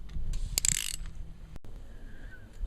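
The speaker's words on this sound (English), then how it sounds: "it takes 4 different size sockets to get the bolts off" Socket ratchet clicking while loosening head bolts on a MerCruiser 3.0 marine engine during teardown, a short burst of close mechanical clicks followed by quieter workshop handling noise.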